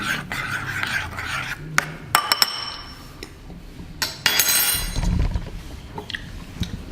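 A spoon clinks and scrapes against a bowl while stirring microwaved oats, a series of sharp close taps and scrapes with quieter gaps between, no voices.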